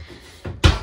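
A kitchen drawer in a 2024 KZ Connect 282FKK RV is pushed shut, giving a soft slide followed by one close, thudding knock.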